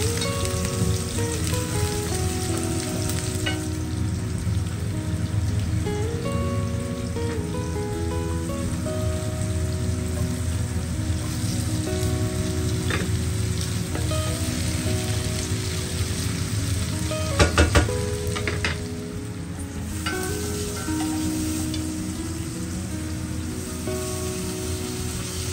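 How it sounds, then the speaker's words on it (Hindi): Okra tempering sizzles and fries loudly and steadily in a pan for the whole stretch, with a dense crackle like heavy rain. Music plays faintly behind it. "मैं भिंडी की भी जो तड़के हैं ना वो डालने लगी हूँ।"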